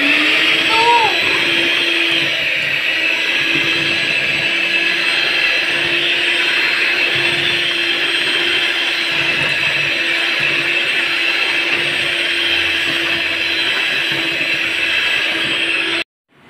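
Hand mixer whirring steadily through cinnamon roll dough, a loud constant motor drone lasting about sixteen seconds before cutting off abruptly.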